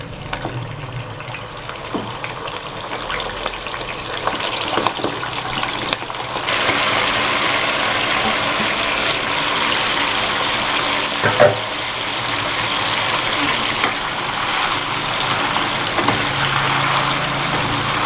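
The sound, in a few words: chicken frying in hot oil in a karahi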